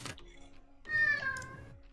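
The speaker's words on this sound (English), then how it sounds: "I can hear that cat so clearly." One loud, clear meow from a cat rises suddenly in the middle of a tabletop role-playing game session, preceded by a few soft clicks and otherwise quiet surroundings.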